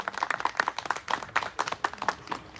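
Crowd at a memorial ceremony giving applause, a light, uneven patter of clapping hands with distinct individual claps standing out, fairly close and moderate in loudness.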